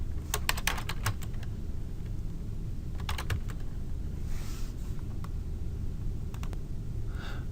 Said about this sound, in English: then we'll type a description of what this is for